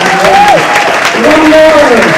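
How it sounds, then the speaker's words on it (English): An audience applauds an orchestra at a Halloween Spookfest concert, a loud, close wash of clapping lasting a couple of seconds, with voices calling out over it. "Could we have one more round of applause for the orchestra?"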